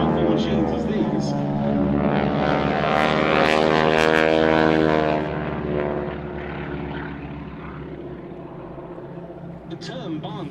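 Propeller aircraft droning at an air display at RAF Odiham, a loud sustained engine hum with shifting pitch as it passes, then fading slightly, with a commentator talking over it throughout.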